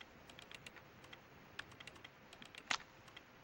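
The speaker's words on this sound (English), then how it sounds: "You hear that clickety-clack?" Quiet, rapid clicking of keys on a computer keyboard, an uneven stream of light taps with one sharper keystroke near the end, no voices.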